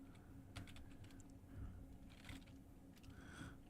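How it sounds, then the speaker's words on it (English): Quiet clicking keystrokes on a computer keyboard in irregular bursts, faint and close, with low background hum and no speech. "What am I typing?"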